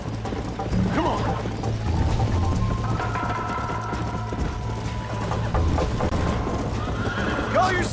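Horse hooves clip-clop rapidly in a steady gallop while a horse neighs in the video game Red Dead Redemption, with people talking over the action.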